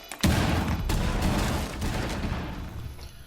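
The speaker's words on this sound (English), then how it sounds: "You blow the cluster charge." A Fuze cluster charge set on a window detonates in Rainbow Six Siege: a sharp, loud onset swells into a sustained, rumbling roar of overlapping blasts that slowly fades over a few seconds.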